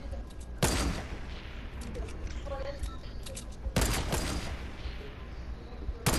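Bursts of gunfire in the Fortnite video game, with sharp loud volleys at the start and again midway, quieter scattered shots between them, under background game noise.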